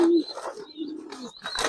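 A Giribaz pigeon cooing close by, with a few soft, wavering coos and bits of faint chirping, ending with a brief louder rustle.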